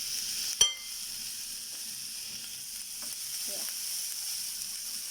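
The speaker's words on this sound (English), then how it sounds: "Now I will add some green chilies" Green chilies dropped into hot oil in a pan for black chickpea kababs give a sharp sizzling burst at first, then a quiet, steady crackle that fades to a soft hiss, close and without talking.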